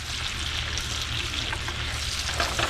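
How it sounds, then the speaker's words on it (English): Wild mushrooms sauté in butter in a pan with a loud, steady, close sizzle and crackle throughout, and no voices. "I just saute them in butter."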